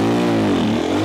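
A 2024 CFMOTO Papio CL motorcycle engine revs hard and loud up close for a wheelie attempt, a dense buzzing drone that dips and rises within about a second.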